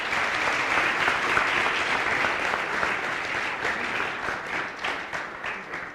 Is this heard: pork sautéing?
no